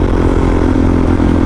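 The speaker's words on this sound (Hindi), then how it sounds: "इसका भी एग्जॉस्ट का क्या है, भयंकर साउंड है यार" A motorcycle fitted with an aftermarket exhaust rumbles loudly and steadily at close range, a deep throbbing engine note with slight clatter and no speech over it.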